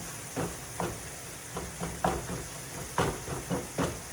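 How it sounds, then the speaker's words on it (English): Ground meat browning in a stainless pan, a steady soft sizzle and hiss broken by repeated scraping strokes of a teak spatula chopping and stirring the meat. "The meat's finally starting to get browned, with just a few pink spots in here now."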